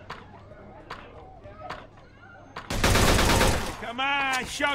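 Gunfire in Mafia 2: a few sharp isolated shots, then a loud dense volley of rapid shots, followed by a voice, all close and forceful.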